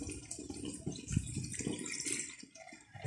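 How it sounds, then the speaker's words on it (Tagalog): Boiled beef broth pours and splashes into a pan while cooking bistek Tagalog, a close, continuous liquid trickle with small gurgles for about three seconds. "Tapos lagyan na natin tong pinagkuluan."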